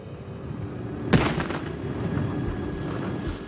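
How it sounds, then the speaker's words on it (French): Dynamite blast set off to trigger an avalanche on a ski slope: a single sharp boom near the start, followed by a rolling rumble that lingers and fades at moderate distance. "L'urgence, c'est de se protéger du souffle provoqué par l'explosion."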